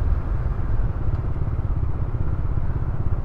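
Scooter ridden at speed on a rough road, a steady close engine drone with wind rumble and rattling clatter running continuously throughout.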